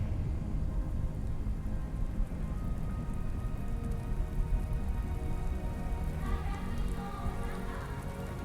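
Steady rain in the video game Death Stranding 2 patters densely on surfaces, a constant wash of hiss with a low rumble beneath and no pause.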